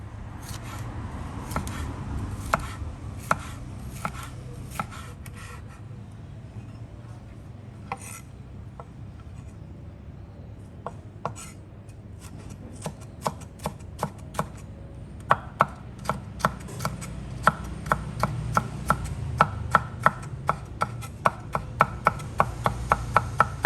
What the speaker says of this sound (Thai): หลังจากนั้นเราก็จะมาหั่นพริกหวานค่ะ